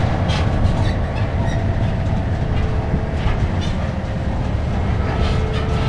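A tram rumbles steadily along at the Oshkosh AirVenture air show with a loud, continuous low roar and faint rhythmic clacking throughout.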